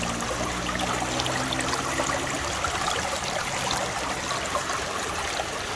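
A creek flows over a bedrock streambed, a steady broadband rush and trickle that stays close and even, with no voices.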